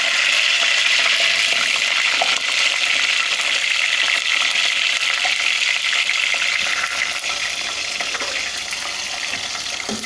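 Onions sizzle and crackle in hot ghee in a pan, a steady bright hiss that eases slightly toward the end, with no voices.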